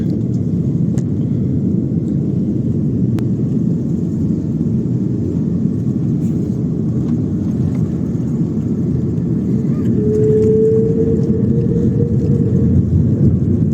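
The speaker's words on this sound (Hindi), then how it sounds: "बहुत सॉफ्ट लैंडिंग थी स्विस एयर की ज़ूरिक में" Steady loud low rumble and whir inside a Swiss Air airliner landing at Zurich, a continuous cabin roar throughout with a faint rising whine near the end and no talking.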